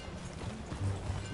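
Rhythmic horse hooves in the video game Red Dead Redemption 2 clip-clopping at a steady gait, fairly close, over a low continuous rumble with no talking.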